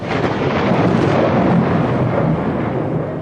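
Sustained thunder rumble in an audiobook setting, a continuous loud, broad roar with deep low rumbling that swells and slowly fades over a few seconds, heard alone without voices.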